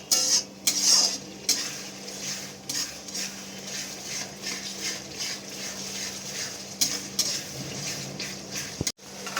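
Sauces being stirred in a pan for veg chowmein, with a utensil scraping and clinking against the metal in steady strokes and a faint sizzle underneath, close and alone without talk.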